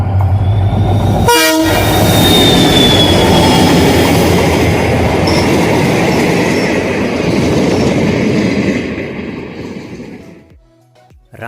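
A passenger train pulls away from Ramnagar railway station, with a loud horn blast early on, then a steady rumble and clatter of wheels on rails that fades out near the end.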